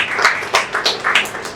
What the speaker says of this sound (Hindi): हमारे साथ में तालियां बजाएं।